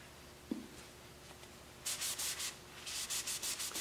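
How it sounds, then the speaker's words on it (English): Friction polish is rubbed by hand onto a lathe-turned wood project, a run of rhythmic scratchy rubbing strokes close by after a quiet stretch with a faint tap. "Over here, I'm gonna apply a little bit of this friction polish."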